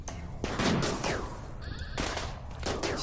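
Sniper gunfire in RimWorld during a pirate raid in tropical terrain: sharp bursts of several overlapping shots, a quick volley, a pause, then another crack near the end.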